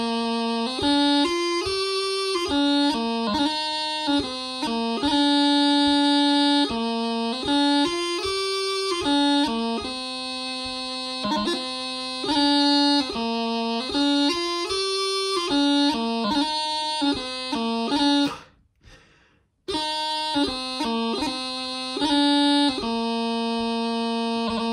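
A bagpipe plays the first eight bars of a tune, a loud, continuous melody of quick ornamented notes over a steady drone, with one brief break near the end before it resumes.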